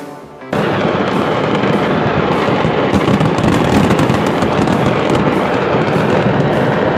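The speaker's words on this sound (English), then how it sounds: "what a brilliant explosion. Huge clouds of smoke, fire, and fireworks shot into the air" A massive, sustained roar of a fireworks market explosion in Tultepec, Mexico erupts suddenly after a brief quiet moment, dense crackling blasts and booms continuing loudly without pause.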